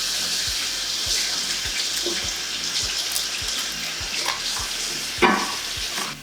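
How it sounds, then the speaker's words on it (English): Capsicum and eggplant being washed under a running kitchen tap, a steady loud stream of water with rubbing and splashing against the vegetables, close and continuous, one brief louder splash near the end. "Wash the capsicum and the eggplant."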